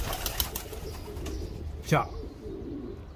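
Pigeons coo softly in the background while someone speaks, with a brief sharp sound near the middle and a steady low murmur throughout.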